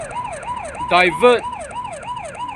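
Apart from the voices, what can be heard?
traffic warden's siren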